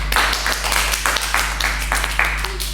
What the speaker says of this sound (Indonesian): tepuk tangan dulu untuk Hernadia